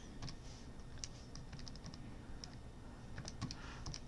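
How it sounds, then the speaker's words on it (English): Quick, light typing on a calculator keypad: scattered plastic key clicks in small bursts, some paired or doubled, fairly close and quiet over a low background hum, with no talking. "tried to type this into my calculator in a more efficient way"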